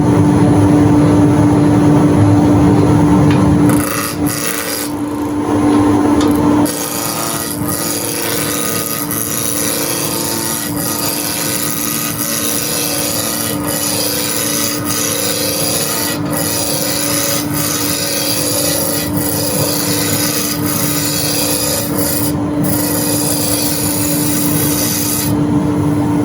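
A wood lathe runs at about 1600 rpm while a goblet blank is roughed down. A steady motor hum sits under a continuous rasping rub of the tool on wood, and the sound shifts briefly early on before settling into an even drone.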